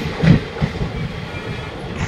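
A DEMU passenger train runs along the rails near Siliguri, a low steady rumble with faint wheel clatter heard from inside the moving coach.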